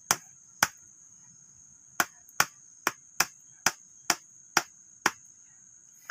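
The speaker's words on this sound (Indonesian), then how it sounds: "kencangkan dengan palu" A hammer strikes a metal stake set beside a Dendrobium orchid stem, giving about ten sharp, ringing metallic blows at uneven intervals, close and clear against a quiet background.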